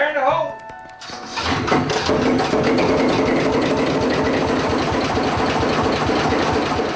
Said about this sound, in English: able to raise the ship's massive anchor and get the engine started